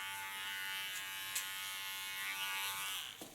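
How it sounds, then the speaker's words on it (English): Electric hair clippers buzz steadily while shaving a tattoo design into the nape of a woman's head, a close continuous whine with slight dips in pitch as the blades move, no talking. "so I can give her a nice clipper tattoo"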